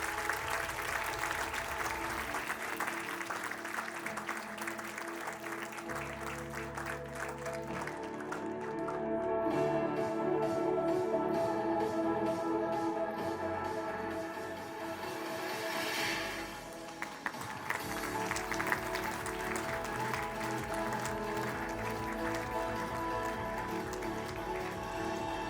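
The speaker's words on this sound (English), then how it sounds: "Please have a big round of applause." Audience applause at a college scientific session inauguration, a long patter of clapping that swells midway and then settles, mixed with musical tones and faint room noise.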